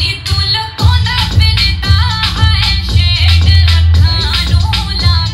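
Loud, bass-heavy song played on a boAt Aavante Bar Mystiq soundbar with a music preset, steady thumping beat and full instrumentation playing continuously, no talking.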